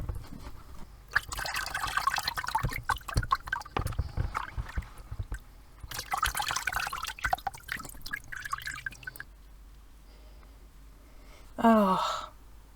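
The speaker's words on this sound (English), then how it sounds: "You need to put it through a sieve to remove any remaining pulp" Leftover water from making handmade paper, with pulp still in it, poured through a sieve. It comes as a few bursts of close splashing and trickling with pauses in between.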